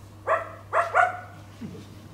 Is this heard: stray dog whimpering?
yes